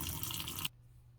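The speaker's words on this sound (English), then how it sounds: "and then put a little bit of water in there." Water is poured or run into a Keurig K-Latte milk frother for rinsing, a loud, close splashing rush lasting under a second before stopping abruptly.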